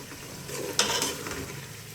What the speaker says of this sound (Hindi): तो मसाला अच्छी तरह भून चुका है।